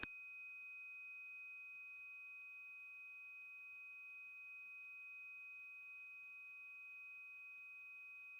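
Buzzer on a quad-channel data logger, set off when the humidity reading climbs above its threshold: a continuous, steady electronic tone, unbroken and fairly faint, sounding alone with no talk.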